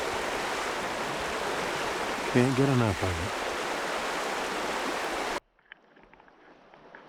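A river in Alaska flows with a steady broadband rush close by, while a voice speaks briefly over it before the sound cuts to near silence.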